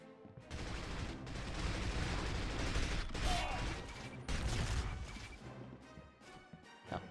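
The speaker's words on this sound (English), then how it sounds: "I guess I got the other guy in the explosion." Gunfire and an explosion from the PS2 video game 007: From Russia with Love: a dense burst of shots and crashing blasts, loud and continuous before tapering into a few scattered pops.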